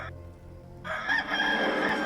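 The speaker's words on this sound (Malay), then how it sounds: "tepat pada waktu itu ayam berkokok." A rooster crows at dawn, a drawn-out, strained call that rises suddenly out of a quiet, low background and carries on at moderate volume, with no voices.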